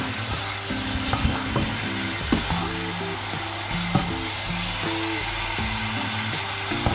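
Bulalo, a Filipino beef soup, being stirred and mixed in a cooking pot, with close sizzling and scraping strokes repeated in an irregular rhythm over a steady frying hiss.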